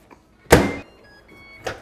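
A microwave door handled in a home kitchen: a sharp thunk as it shuts, a faint electronic hum or beep tone after it, then a second, lighter click or tap near the end, close and clear with no talking.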